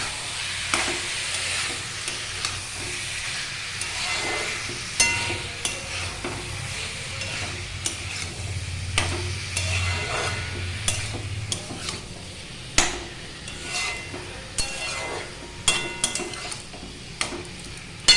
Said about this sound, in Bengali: বাঁধাকপিগুলো দিয়ে দিলাম, দিয়ে বাঁধাকপি দিয়ে এবার কষাবো।